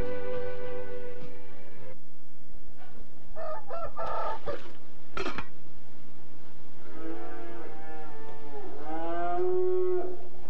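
A dairy cow on a village farm lows in long, drawn-out moos, close and clear, with a rooster crowing among the farmyard sounds and a few short knocks between calls.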